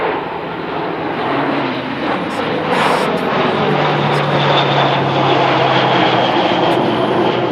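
A passenger airliner landing with a slight flare and a small hop, a loud continuous engine roar and rushing noise close by, with a low steady tone rising in the second half.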